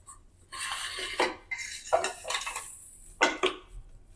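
Cooked green-chilli chicken curry is scooped from a metal kadhai into a bowl: a handful of separate spoon-on-metal scrapes and clinks, close and distinct, with short quiet gaps between them.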